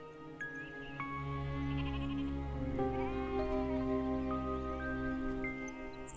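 Sheep bleat one after another, their wavering calls overlapping against a steady background drone, with no one talking.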